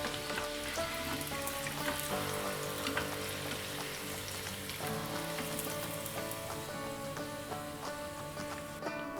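Paneer nuggets fry in hot oil with a steady, dense sizzle and crackle that holds even and close throughout, with no voice over it.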